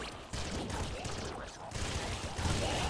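Laser shotgun firing in the video game Nuclear Throne Ultra Mod, a dense, steady barrage of crackling shots layered over other game noise with no break.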